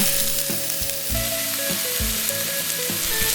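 Julienned carrots stir-frying in oil in a pan, a loud close sizzle broken by rhythmic stirring strokes and scraping bursts every half second or so, with no voices.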